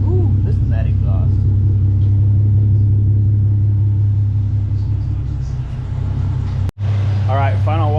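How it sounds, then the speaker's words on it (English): Nissan 350Z exhaust idling, a steady deep low rumble held throughout, close and loud, briefly cut out near the end as a voice speaks over it; scattered talk earlier. "Ooh, listen to that exhaust."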